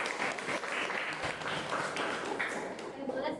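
A classroom group claps for a presenting student group, a fairly faint but steady spatter of applause with voices murmuring underneath.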